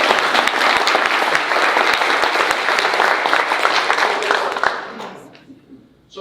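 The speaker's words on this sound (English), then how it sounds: "It's okay to clap." An audience applauds as a new panelist is introduced at a California water equity panel, with dense, sustained clapping that fills the room before tapering off and fading out near the end.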